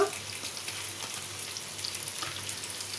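Steady, close sizzling of potatoes and drumstick stems frying in a pan, a continuous crackling hiss with no voices.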